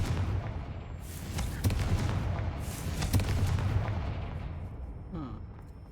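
Confringo fire-blast spell going off in the Hogwarts Legacy video game, a dense stretch of booming, crackling blasts in quick succession that slowly fades, heavy and continuous in a combat scene.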